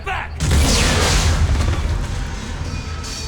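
A bomb explodes in the video game Mass Effect 3: a loud, deep boom that bursts in suddenly and then rolls on as a long rumbling roar with debris, following a brief quieter moment.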